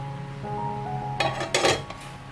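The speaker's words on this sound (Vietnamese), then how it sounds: "Bây giờ mình sẽ đậy nắp lại ha" A metal lid set onto a frying pan while lotus seed cake bakes inside, landing with a couple of bright clinks and a short rattle, close and clear over a low steady hum.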